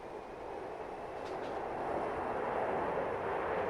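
Steady rolling rumble of a train running along track in the Transport Fever simulation game, continuous and gradually swelling slightly louder, with no talk over it.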